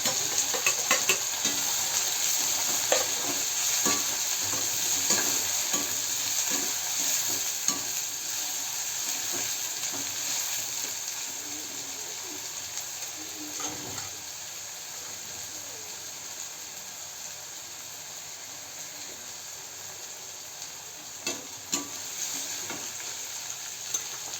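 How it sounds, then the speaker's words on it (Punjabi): Onions frying with browned garlic in a pan for dal palak sizzle continuously and close up, with scattered stirring scrapes and clicks throughout a long steady crackle, no voices. "ਹੁਣ ਆਪਾਂ ਪਿਆਜ਼ ਪਾਵਾਂਗੇ"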